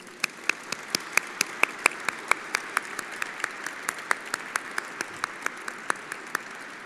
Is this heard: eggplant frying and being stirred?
no